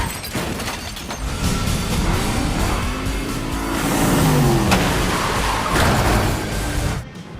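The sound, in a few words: car chase in John Wick Chapter 2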